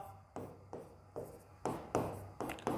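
A maths solution is written out by hand, pen strokes scratching across paper in about six short bursts with pauses between them, close and quiet, with no talking.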